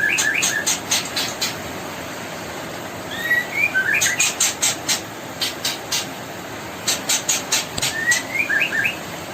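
Three nestling birds about twelve days old give several short clustered bouts of high thin chirps inside a nest box, close by, separated by quieter stretches over a soft hiss and faint fluttering.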